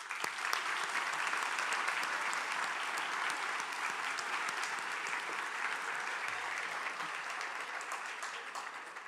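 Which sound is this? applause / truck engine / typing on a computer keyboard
applause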